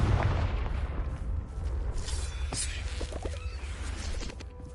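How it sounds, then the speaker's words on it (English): A Confringo blasting spell explodes in the Hogwarts Legacy video game, a booming burst over dense, rumbling game noise that keeps going loud throughout. "Confringo."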